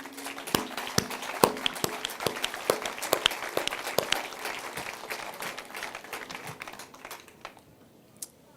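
Scattered clapping from an audience at a French civic gathering, sharp separate claps that thin out and fade to near silence by the end.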